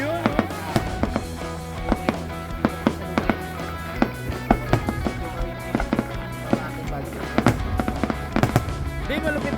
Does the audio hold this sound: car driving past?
no